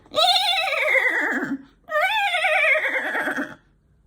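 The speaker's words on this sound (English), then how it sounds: "And just then, Horse bounded over." Two long, loud whinnies from a horse, each rising then wavering down for about a second and a half, separated by a short pause, with no talk over them.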